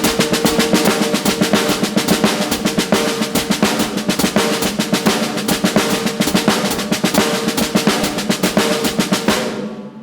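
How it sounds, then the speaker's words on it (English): Rapid five-stroke drum rolls played on a snare in a steady triplet pulse with regular accented strokes, loud and continuous with no talking. "So rolling 5 strokes in consecutive triplets, accents"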